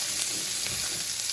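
Roughly diced yellow onion fries in hot bacon drippings, giving a steady, dense, close sizzle with a crackling hiss throughout.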